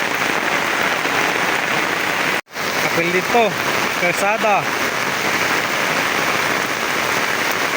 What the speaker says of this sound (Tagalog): Kusog ulan dari.